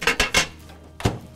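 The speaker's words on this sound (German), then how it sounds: "Und das kommt dann auf das Glaseinlageblech in die Mikrowelle." A steamer insert holding salmon clinks and clatters three times as it is set onto a glass tray in a microwave, followed by a final sharp knock. The sounds are close and brief, with quiet in between.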